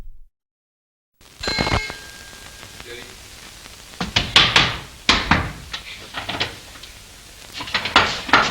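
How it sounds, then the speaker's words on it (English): Locked doors of a tower room on a film set being rattled and shaken, a series of sharp wooden knocks and clattering jolts in irregular bursts after a brief silence, close and fairly loud. "the noise she makes as she tries to open the locked doors of the tower room"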